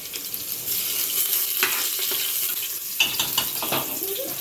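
Garlic sizzles in hot oil in a home kitchen with a steady, close frying hiss. Brief louder bursts of crackle and clatter break in partway through.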